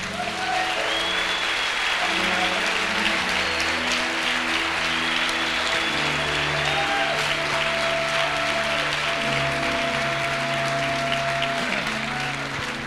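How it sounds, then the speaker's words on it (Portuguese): A church congregation at a Wednesday evening service breaks into sustained, dense applause that holds steady for about thirteen seconds, with soft sustained musical tones lingering beneath the clapping. "Você pode dar uma linda salva de palmas ao Senhor?"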